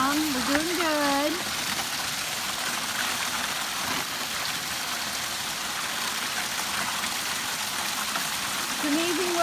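Water rushes steadily from a water line being flushed, a continuous loud hiss throughout, with brief whistly tones at the start and end.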